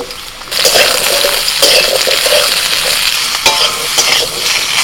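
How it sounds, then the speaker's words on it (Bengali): Potato and ridge gourd fry loudly in mustard oil with nigella seeds and slit green chilies, a close, steady sizzle broken by stirring scrapes and small clinks, with no talk. "কালো জিরে কাঁচা লঙ্কা একটু ভেজে নিয়ে দিয়ে দিচ্ছি আলু আর ঝিঙে"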